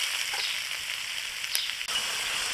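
Spices in a hot pan sizzle loudly as a little water is poured in, a bright hissing crackle with a brief dip near the end before the sizzle resumes, no voices.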